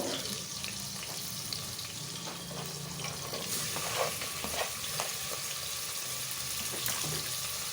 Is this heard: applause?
no